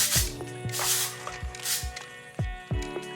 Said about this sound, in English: So I'm just going to spray this at the bottom just to give it a little bit of fullness.